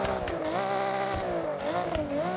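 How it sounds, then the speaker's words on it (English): A race exhaust on a car in Forza Horizon 6 drones loudly, the engine pitch rising and falling as it revs and shifts, with no one talking. "For the exhaust, we're going with the race one because I really like how it sounded."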